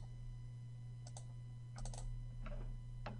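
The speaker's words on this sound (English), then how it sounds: "We can also do this by double clicking on the tabs," A computer mouse double-clicks on the ribbon tabs in MS Word 2010, producing a few soft, quick click pairs over a steady electrical hum.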